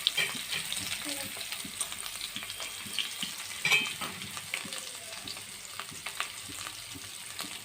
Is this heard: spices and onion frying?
yes